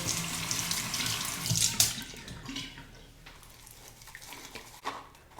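Hot water runs from a sink tap, a close, hissing splash that is loudest at first, then eases into a softer trickle with a few clinks near the end.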